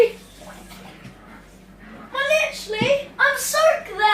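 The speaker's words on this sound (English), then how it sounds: "You've got to be careful with that tap." Water gushes from a kitchen tap in a steady rush, with excited children's voices talking and exclaiming over it during the second half.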